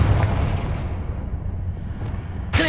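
A fiery Confringo blast spell in Hogwarts Legacy booms out as a loud, sustained rumbling roar, followed by a sharp bright burst near the end.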